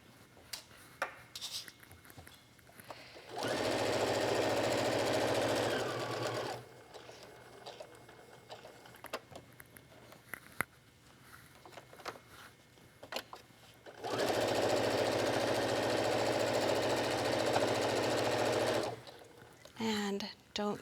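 A sewing machine runs in two steady bursts of about three and five seconds while stitching a fabric wallet, with quieter handling noise and pauses between the runs.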